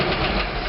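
A 1956 DeSoto Seville engine on its first start attempt gives a brief, loud, steady mechanical rumble with a rough, knocking texture, heard alone for under a second.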